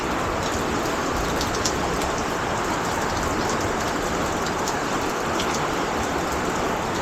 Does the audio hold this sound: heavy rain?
yes